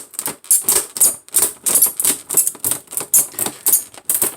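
A blade cutting open the packaging of a Spawn Evolutions articulated statue, a close, loud run of sharp rhythmic slicing and tearing strokes, evenly spaced, with no talk over it.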